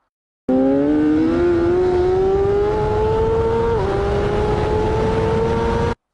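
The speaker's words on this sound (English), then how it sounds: "So pick up your bike and accelerate hard" A motorcycle accelerates hard out of a corner at Donington race track, its engine note climbing steadily, loud and close, with a brief dip at an upshift before it rises again.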